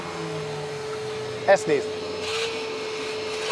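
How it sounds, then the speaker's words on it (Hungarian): A wet vacuum cleaner that can suck up water runs with a steady, close droning hum, and a person speaks briefly over it. "Ez a porszívó, mert ez a vizet is kiszívja."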